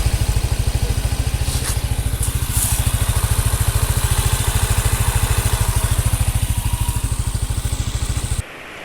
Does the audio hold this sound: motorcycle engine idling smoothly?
yes